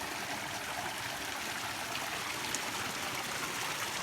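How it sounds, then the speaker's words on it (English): A small waterfall splashes and trickles steadily over rocks on a trail, a faint continuous rushing wash with no voices. "Two pretty little waterfalls."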